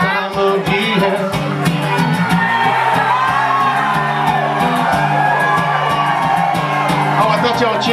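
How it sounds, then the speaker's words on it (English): A crowd cheers and whoops loudly and continuously throughout, with shouts and yells layered over steady music in the background. "I thought y'all were cheering for us"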